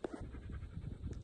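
Dogs named Brandon and Marcy panting close by in a short continuous burst of quick, breathy rhythmic puffs, with no talking over it.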